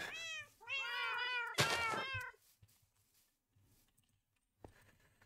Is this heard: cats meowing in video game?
yes